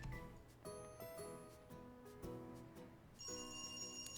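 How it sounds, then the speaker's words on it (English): A telephone rings in the horror video game Dread Weight, a bright electronic bell sounding in repeated bursts with faint clinks and ticks around it, quiet and echoing. "The ringing echoes down the hall."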